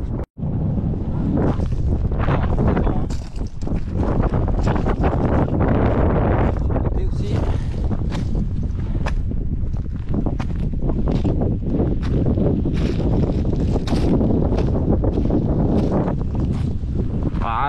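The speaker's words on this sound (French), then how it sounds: "on va pas se laisser embêter par du vent" Strong wind blowing on a desert island, roaring and buffeting hard against the microphone almost without a break, a loud steady rush with gusty flutters throughout.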